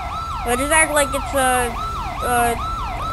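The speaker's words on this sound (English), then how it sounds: "Turn your dang siren off!" A police car siren in GTA 5 wails in repeated rising and falling sweeps, loud and close, with a second siren tone overlapping and someone speaking briefly over it.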